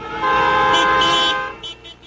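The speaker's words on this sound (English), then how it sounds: "asked motorists to honk for a free China" Car horns blare in loud, sustained blasts at a street protest in Washington, with one long honk trailing off into a few shorter toots.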